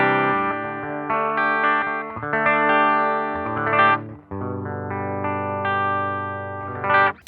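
An electric guitar plays through a BOSS FBM-1 '59 Bassman pedal set for a clean, undistorted tone, ringing chords and notes with sustained decays, strummed clearly and alone, with brief pauses between phrases.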